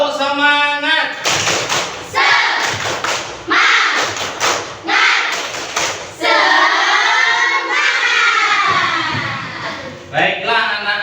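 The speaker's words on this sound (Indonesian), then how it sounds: "Tepuk semangat." A school class joins in a rhythmic 'tepuk semangat' spirit clap, bursts of hand claps and thumps in set patterns. Children's voices chant and call out between and over the claps, loud and close in a classroom.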